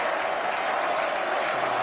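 Tennis crowd applausing at Roland Garros during the 2016 final between Djokovic and Murray, a dense, steady roar of clapping from a large stadium audience, loud and sustained throughout.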